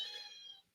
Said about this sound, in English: oh, that's my corn kitty if you hear that in the background